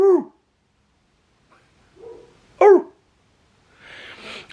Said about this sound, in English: Do you hear the neighbor dog?